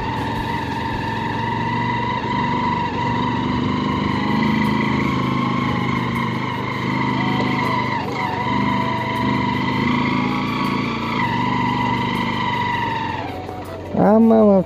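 A motorbike labours up a steep uphill road in hilly jungle country, its engine droning loud and steady at close range, the pitch shifting as it climbs, before ending in a brief louder burst.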